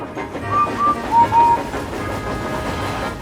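A fast train rumbles along the track with rhythmic rolling and clattering, loud and close. Short tonal squeals or whistle-like notes rise above the running noise.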